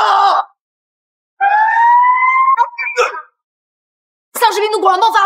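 An alarm siren sounds in a zombie-outbreak shelter, a loud, steady held tone lasting under two seconds, with bursts of loud voices shouting just before and after it.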